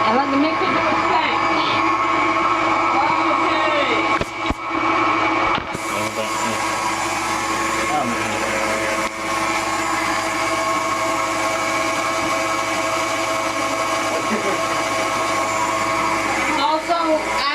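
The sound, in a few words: mixer blending chocolate mousse pie filling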